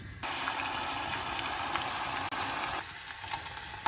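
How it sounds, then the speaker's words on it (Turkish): Boiling water pours steadily onto browned meat in a pot for an okra stew, a loud continuous gushing splash that begins abruptly, runs unbroken for several seconds, and softens slightly near the end. "Kaynar su ilave ediyorum ki burada etlerimin pişmesi gerekiyor."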